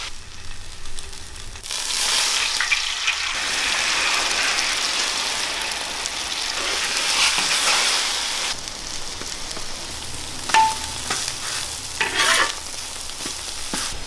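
Sweet potato is stir-fried with salt and oil in a pan over a fire, making a steady loud sizzle with scraping and stirring noises throughout and a few sharper clinks near the end.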